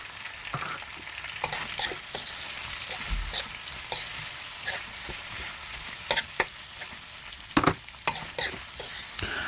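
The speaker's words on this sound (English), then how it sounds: "Give this a proper stir." Abacha being stirred in a pot with smoked fish added, giving a steady run of scraping, clinking spoon strokes over a soft background sizzle, close and alone with no talking.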